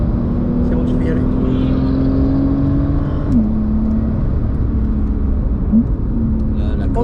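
A Porsche race car holds a steady, droning engine note on a circuit, its pitch dipping briefly as the throttle eases. The sound stays fairly close and even throughout, while people talk over it in French.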